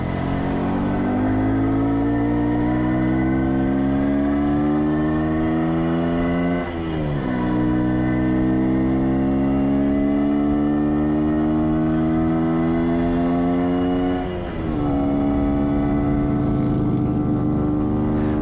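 An MZ ES 150 two-stroke motorcycle ridden at an oldtimer meet in Königseggwald: a loud, continuous buzzing engine note that rises in pitch as it accelerates, drops at two gear changes, then climbs again.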